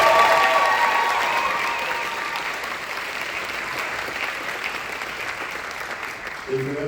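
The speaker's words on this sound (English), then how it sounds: "So a round of applause for them." A concert audience applauds a big jazz band after its final performance, sustained clapping loudest at the start and gradually thinning, with some voices in the crowd.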